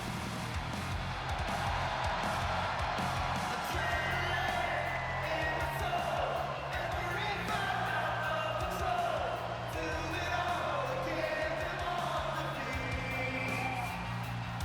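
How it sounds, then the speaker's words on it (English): Wrestling crowd at an IPW show serenading the champion, the American Nightmare, before a one-fall contest: a loud, dense arena crowd roar with rhythmic chanting and whoops that runs steadily under music and noise throughout. "Crowd serenading the champ."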